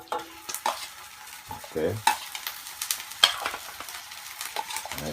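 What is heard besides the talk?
ginger frying in a hot pan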